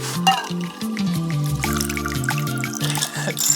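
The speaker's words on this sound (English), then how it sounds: "I'm gonna switch to the colander one because I wanna keep the ice in but get the liquids out" Cocktail liquid is strained out through a colander-style shaker lid while the ice stays inside, giving a bright, continuous pouring trickle with small clinks, close and clear.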